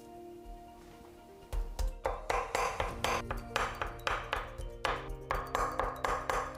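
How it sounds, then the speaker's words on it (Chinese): After a quiet start, the back of a knife pounds shrimp meat on a cutting board in brisk, evenly spaced knocks, close and crisp, with a light ringing clink on each strike. "然后用刀背把它剁到出筋。"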